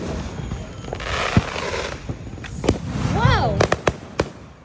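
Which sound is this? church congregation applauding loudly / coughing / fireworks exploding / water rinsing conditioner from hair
fireworks exploding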